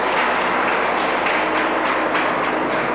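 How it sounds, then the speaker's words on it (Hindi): An audience claps steadily in a hall at an event for IAS aspirants, a dense, even patter of many hands sustained from start to finish at moderate loudness. "प्लीज तालियां बजती रहनी चाहिए।"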